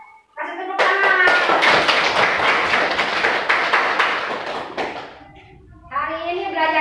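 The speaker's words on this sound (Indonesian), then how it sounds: "Kasih tepuk tangan" A class of children claps together in a classroom, a loud, fast burst of applause lasting about four seconds, framed by an adult voice talking before and after.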